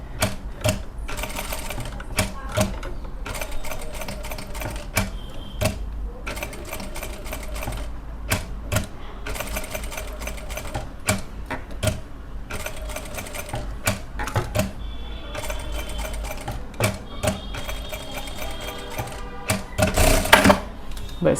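A sewing machine stitches a circular embroidery pattern for silk thread work, running in bursts of fast rhythmic clatter with short pauses as the fabric is lifted and turned, close and fairly loud throughout.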